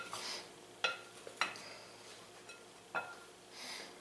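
A spoon works a corned beef hash mixture of potatoes around a dish, producing a few sharp clinks and scrapes against the bowl with soft, muffled churning in between. The sounds are close and uneven, with no talk.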